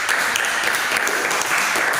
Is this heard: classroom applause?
yes